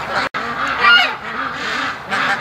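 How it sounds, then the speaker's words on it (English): Ducks in a pen honk and call loudly in rapid repeated bursts, a close, busy chorus of nasal quacks that swells and dips with a brief gap early on. "Oh, the ducks hear me. Listen to them getting louder."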